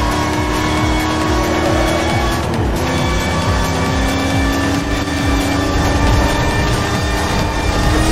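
A 1969 Dodge Charger R/T engine in a racing video game, roaring loudly and continuously with rising and falling revs as it downshifts into second for a corner, alone without talk.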